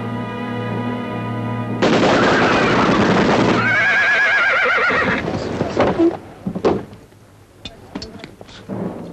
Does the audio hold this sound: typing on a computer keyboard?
no